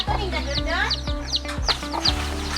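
Chickens cluck repeatedly in short bursts, with a rooster-like call mixed in, close by and under a steady background hum.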